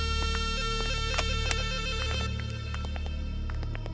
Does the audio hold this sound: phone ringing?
yes